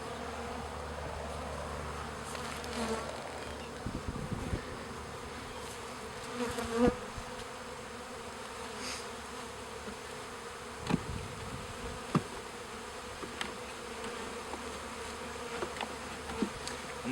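Honey bees buzz steadily around an open nucleus beehive during installation of frames, a continuous close insect drone with occasional louder passes and faint handling knocks, no voices.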